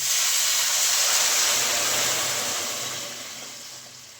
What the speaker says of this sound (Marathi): आता त्याच्यामध्ये गरम केल्यावर पाणी टाकते